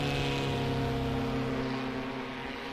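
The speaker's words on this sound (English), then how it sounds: "You can hear that engine spool up a little bit extra when it kicks over into the nitrous mode" Engine of a Chinook STOL aircraft at the Moses Lake Airshow STOL competition, spooling up as it kicks into nitrous mode on takeoff: a loud, steady, tonal propeller-engine drone with strong harmonic hum that slightly fades toward the end, no talk.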